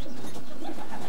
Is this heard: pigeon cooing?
yes